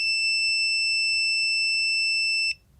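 A deadbolt lock that has just been factory reset gives one long, steady electronic beep, loud and close, lasting about two and a half seconds before cutting off into quiet.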